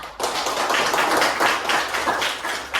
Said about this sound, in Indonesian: tepuk tangan dulu semua ya